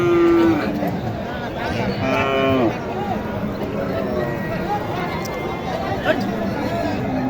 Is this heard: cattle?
yes